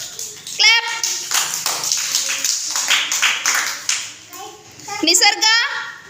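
A group of young children in a classroom clap together in a quick run of claps, fairly close and loud, with a teacher's voice and children's voices around them.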